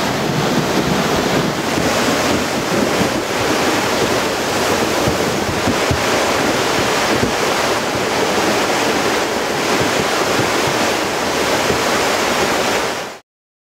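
Floodwater roars past a bridge where logs have backed up in Plainfield, Vermont, during the May 2011 floods, a loud, constant rushing torrent close by with wind buffeting the microphone, cutting off abruptly at the end.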